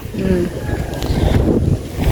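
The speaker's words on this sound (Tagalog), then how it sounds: "Ang lakas kasi ng hangin" Strong wind roars and buffets the microphone in a continuous low rumble, with faint flapping and background noise throughout.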